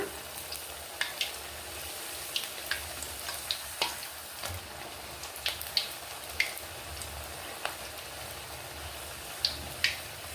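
Rice flour chekkalu frying in hot oil give a steady crackling sizzle with scattered sharp pops and ticks throughout, fairly close and continuous, with no voices.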